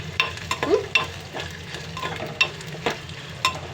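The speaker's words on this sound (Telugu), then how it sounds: "మిక్సీ జార్లోనే కొంచెం గోల్డ్ కలర్ వచ్చేలాగా వేయించుకోవాలమ్మా" Ingredients for tomato chutney being stir-fried in a mixer jar, spoon or spatula strokes scraping and clinking at an irregular rhythm over a soft sizzle, close and clear with no talk.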